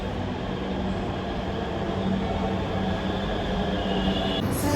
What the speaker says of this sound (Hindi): ये हमारी नमो भारत आ गई, ये नमो भारत है।